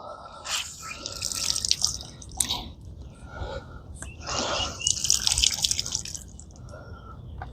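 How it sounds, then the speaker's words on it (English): Water poured into a puddle in a garage during car work on a Ford Flex, splashing and trickling in two longer pours with dripping and small splats in between, fairly close and without talk. "Let's put some more water in the puddle"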